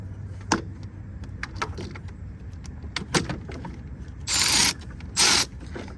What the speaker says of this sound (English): I'm gonna use the ratchet on that one.